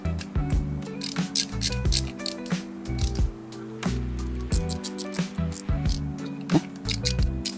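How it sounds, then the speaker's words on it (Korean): A ratchet tightening transmission oil pan bolts on an imported car, with rapid repeated pawl clicking in bursts, near and fairly loud, broken by short pauses and metallic clinks. "미션 오일 팬 근데 풀른 거 볼트들 다 체결할 거야."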